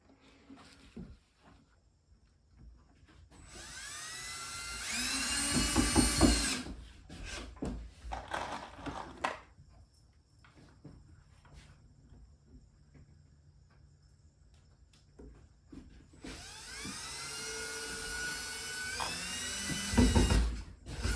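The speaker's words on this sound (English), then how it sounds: "Right now I'm trying to screw in some of the last screws for the roof of this bat house" A power drill whines in two bursts, driving screws into the wooden roof of a bat house outdoors, each burst rising and cutting off between quieter stretches of faint background noise.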